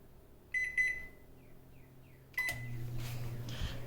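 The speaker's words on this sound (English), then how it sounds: "we'll do a microwave experiment" A microwave oven beeps in short electronic tones, a double beep, then later a beep followed by the low steady hum of the oven starting to run for a one-minute heating test.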